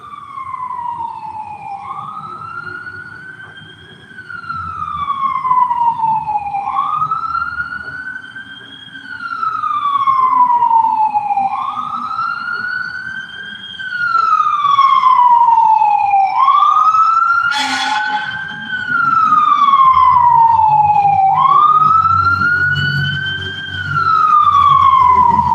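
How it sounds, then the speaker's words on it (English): Police sirens wail in repeated rising-and-falling sweeps throughout, loud and steady as they pass down a city block, with low rumbling traffic underneath. "I know y'all hear the police sirens in the background."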